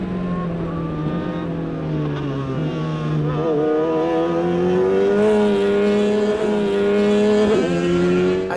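A 2024 X1 race car's engine revving loudly and close by, its pitch climbing in waves with a short dip partway through, and no voices over it.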